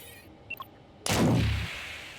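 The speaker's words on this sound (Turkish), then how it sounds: "Aa bu da patladı." A sudden loud blast-like burst in the cat adventure game Stray, with a heavy low rumble that swells and then tails off into a sustained roar, after a couple of faint small electronic blips.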